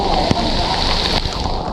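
Rain falling near Poondi Lake in Chennai, a broad steady patter and wash of water, fairly loud and close, with a few faint knocks and no talk.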